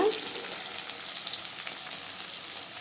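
Onions frying in a pan for a Tamil mango vathal kuzhambu make a continuous close, bright sizzle with a faint crackle, steady and unbroken with no voices.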